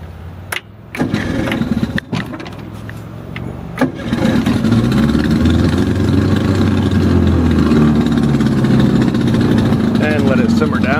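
A 1965 Whaler boat engine at a boat ramp cranks with a few sharp bursts, catches, and settles into a steady, loud mid-pitched idle.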